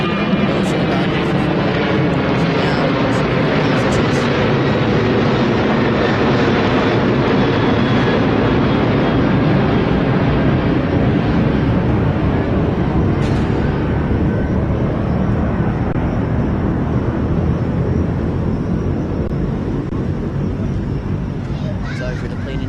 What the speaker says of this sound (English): Sorry for the plane interruption there.